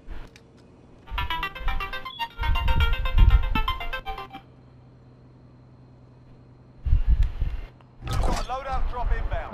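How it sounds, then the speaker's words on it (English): A phone's notification tones ring out in a Call of Duty: Modern Warfare match, short melodic chimes that recur in separate bursts amid game sounds and talk. "That's my text message."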